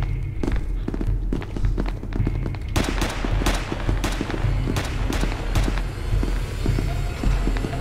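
A gun fires in the video game RH SCP, with rapid sharp shots in quick bursts over a steady low rumble. Movement noise mixes in with the shots, and a voice speaks briefly.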